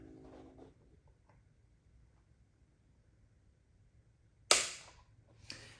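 A Taurus TX22 pistol trigger breaks with one sharp snap during a trigger-pull weight test, followed by a fainter click a moment later in a quiet room.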